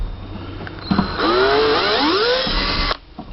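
Small drill boring a hole into the plastic hull of an FT009 RC boat, a steady high whine lasting about two seconds with shifting pitch, close and fairly loud, ending abruptly.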